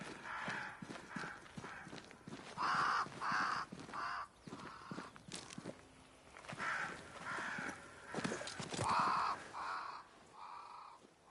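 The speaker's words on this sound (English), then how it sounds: "Crows. They flock to that great tree up there." Crows caw repeatedly in Banishers, harsh calls in a flock around a great tree, mid-distance with steady background ambience and occasional clopping hooves.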